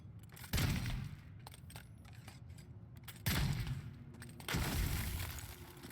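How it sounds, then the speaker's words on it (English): Three booming grenade blasts from the fantasy video game Avowed, each a sharp thump with a rumbling tail. The second and third come close together after a long gap. "a grenade there"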